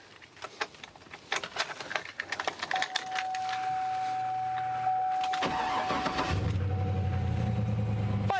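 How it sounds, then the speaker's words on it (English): A project car's engine cranks with rapid clicking and churning, catches, and settles into a steady low idle that runs close and fairly loud to the end, with a light squeal at the close. "Fires right up, just like a champ. It's got good oil pressure. Idle's good."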